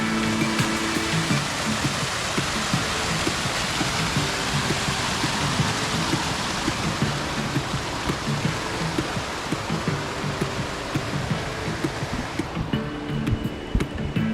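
Clear, freezing-cold creek water rushes steadily along a canyon trail at Crater Lake, Oregon, a dense, continuous wash that stays loud and close for the whole stretch with no voices over it.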